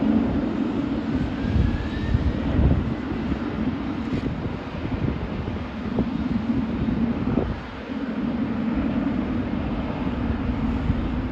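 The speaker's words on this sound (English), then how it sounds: "Here's Korean Air Cargo heading for takeoff." A Korean Air Cargo plane takes off at JFK airport, its jet engines giving a steady loud roar throughout, with some wind buffeting on the microphone.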